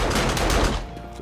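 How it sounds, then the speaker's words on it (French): A loud, rapid burst of gunfire in the game 7 Days To Die, shots blurring together for under a second before fading to a softer rumble. "Ça tire un petit peu."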